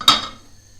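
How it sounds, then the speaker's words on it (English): A big frying pan is set down on a kitchen stove with a single short metallic clink that rings briefly and fades, close and alone. "What we do then, put your pan on."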